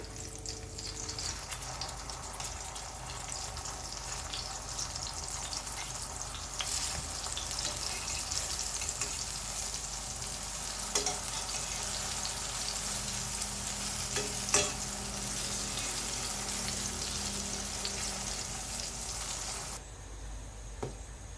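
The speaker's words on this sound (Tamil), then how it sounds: "இப்போ எக்லாம் ஃப்ரை ரெடி ஆகிட்டு இருக்கட்டும்" Eggplant slices frying in a pan, a steady hiss and crackle of hot oil lasting throughout, with a few faint clinks and soft stirring touches near the pan and a quieter tail at the very end.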